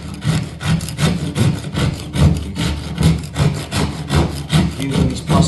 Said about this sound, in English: using this plasterboard file, I'll go around all the edges